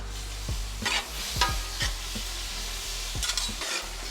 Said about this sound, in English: we're gonna go ahead and put some soy sauce down on the steak and the vegetables